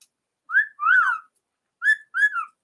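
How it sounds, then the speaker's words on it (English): Four clear whistled notes from a cockatiel, two then two after a pause, bright and close, with rising and falling pitch and no talking. "Somebody prompted you to whistle."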